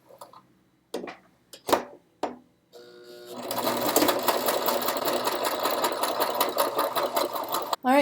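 A sewing machine stitches fabric at the shoulder seam of a flapper dress, running in a fast, continuous whir after a few sharp clicks and a pause, close up and alone.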